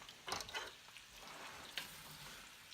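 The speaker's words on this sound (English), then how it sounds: "Now we're going to let this saute until I'm comfortable that the onions are cooked" Onions sautéing with Cajun seasonings for French onion soup: a faint, steady sizzle of frying in a pot, with a few soft stirring scrapes, quiet and close.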